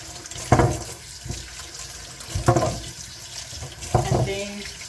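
Tap water runs steadily into a kitchen sink as four carrots are washed for lasagna, a faint continuous flow with a few louder splashing bursts as the carrots pass under the stream.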